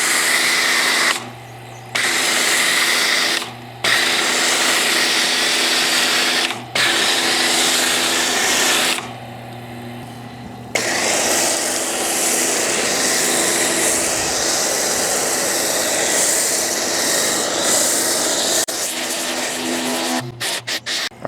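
A pressure washer sprays through a Raincovo Dual Pro non-dilution foam cannon, a loud, sustained hissing roar interrupted by several brief pauses as the trigger is released and squeezed again.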